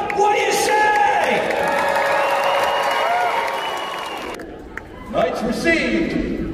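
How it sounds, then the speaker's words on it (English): A large crowd cheers, claps and whoops at a full-contact jousting show at the PNE fair, a loud sustained roar that dips briefly before swelling again, with voices mixed in. "And the crowd goes crazy."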